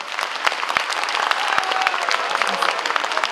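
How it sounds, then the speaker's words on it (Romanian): A crowd at a Romanian folk music awards ceremony applauds an honoured Bucovina folk singer, loud continuous clapping with a few sharper individual claps standing out. "să o aplaudăm!"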